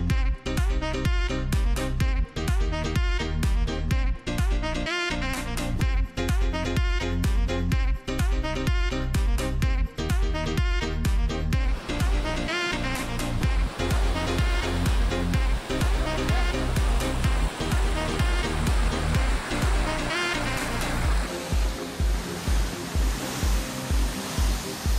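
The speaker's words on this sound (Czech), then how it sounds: "A jsme u vodopádu." Marimera waterfall on a rainforest trail roars as a loud, steady broadband rush of falling water, continuous and close with no voices.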